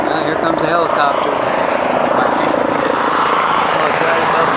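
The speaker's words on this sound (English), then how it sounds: "Medical helicopter flying above me." A medical helicopter flying overhead near a business fire off the I-15 in St. George, Utah, its steady loud rotor drone filling the scene while a person talks nearby.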